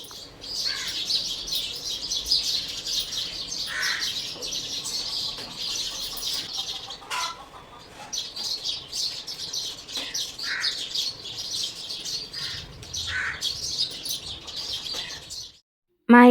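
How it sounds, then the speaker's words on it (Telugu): Many birds chirp and tweet together in a flowering tree beside a house, a dense, continuous chorus of high calls close by that carries on for most of the stretch before cutting off near the end. "ఆ పూల చెట్టు నిండా ఎన్ని పక్షులు ఉన్నాయంటే చాలా పక్షులు వచ్చేసి ఆ కిచకిచలు ఆడుతూనే ఉన్నాయి"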